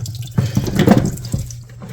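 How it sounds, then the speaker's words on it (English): Water splashes and trickles as a small decorative fountain with a hole is filled on a desk and leaks, a close burst of dripping and pouring that fades out within two seconds. "I'm going to fill this up. It's going to leak."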